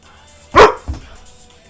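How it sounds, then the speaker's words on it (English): A dog lets out one loud, close bark, followed a moment later by a softer second bark or grunt, then quiet. "Pretty dog, this is Sub-Zero"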